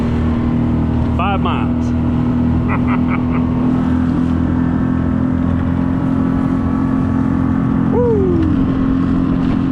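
Pond Prowler boat's outboard motor running at full throttle, a steady loud drone throughout, with someone briefly speaking and whooping over it.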